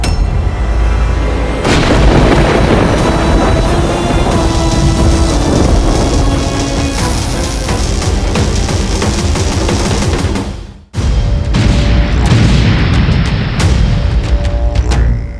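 Divine Indrastra weapon unleashing a storm of arrows in a battle between Lakshman and Ravana: a dense, loud barrage of booming, crackling blasts and rushing roar, building after a brief lead-in, cutting out for a moment, then surging back.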